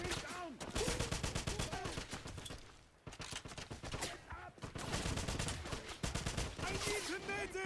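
Rapid gunfire crackles through the Wolfenstein video game: dense bursts of automatic shots, loud and close, pausing briefly near the middle before resuming in sustained volleys, with no speech.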